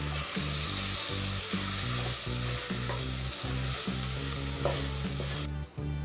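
Chilli powder, turmeric and salt being stirred into vegetable biryani, a continuous close scraping and sizzling mix that runs steadily without pause over a low, droning tonal bed.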